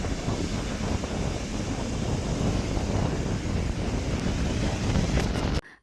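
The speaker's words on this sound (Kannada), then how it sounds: "ಗಾಳಿ ಅಲೆಗಳು ಕೂಡ ಅಷ್ಟೇ ಸ್ವಲ್ಪ ಜೋರಾಗೇನೆ ಇದೆ" Strong wind buffets the microphone at a beach, a steady loud roar with crashing waves blended underneath, continuous and broadband until it cuts off near the end.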